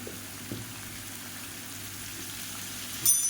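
Raw plantain pieces with chilli powder frying in hot oil, giving a steady low sizzle with a couple of soft knocks and a louder clatter near the end, heard alone without voices.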